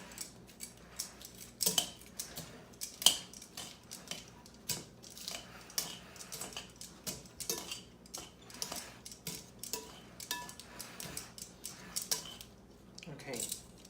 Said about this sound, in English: And then I'm just gonna toss that up. with some tongs.